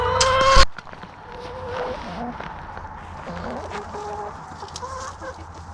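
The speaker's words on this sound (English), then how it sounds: "The girls are out having a blast while the chicken coop was being cleaned." Hens roam outside their coop while it is being cleaned, giving soft, scattered clucks and murmurs after one loud, sharp squawk at the start.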